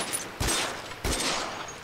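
Two sharp gunshots crack out about half a second apart during a tunnel fight in the L.A. Noire video game, loud and close over a noisy background.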